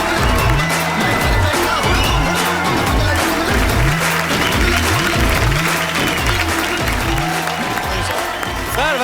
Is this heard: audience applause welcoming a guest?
yes